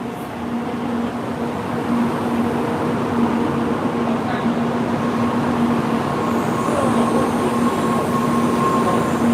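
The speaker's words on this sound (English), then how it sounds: "It's still a pretty cool looking train." Shinkansen Kodama bullet train passing through Shizuoka Station, a steady, loud rumbling roar with a sustained tonal hum that holds throughout, with no clear build or fade.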